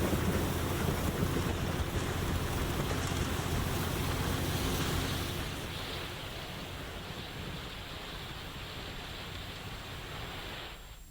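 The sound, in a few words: heavy rain and strong wind in Igatpuri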